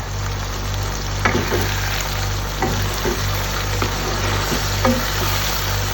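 Chicken karahi in a Shinwari Peshawari style sizzles and fries steadily with tomatoes and two cut green chilies, with a constant close hiss broken by several sharp clinks and scrapes of stirring.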